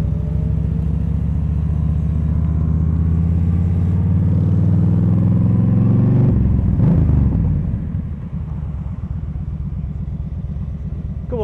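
A large group of about 40 motorcycles rumbles loudly and steadily as the ride out starts. The engine roar holds dense and continuous, then shifts and drops slightly as the pack moves off.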